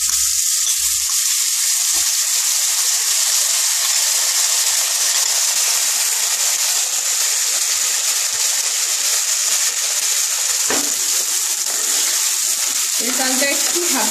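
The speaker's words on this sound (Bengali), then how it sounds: "চালটা একটু ভেজে নেব" Rice frying slowly in a pan over a low gas flame gives a steady, even hiss throughout, with a brief scrape of stirring near the end.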